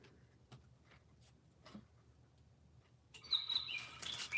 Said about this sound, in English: I hear you, bird.